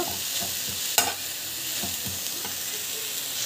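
Fresh coriander leaves being sautéed in a hot pan, a constant bright sizzle broken by a sharp spatula knock and several scraping stirs close by, with no voices.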